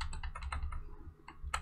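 Code is typed on a computer keyboard in a run of quick, close, crisp keystrokes with a brief pause before a final few taps.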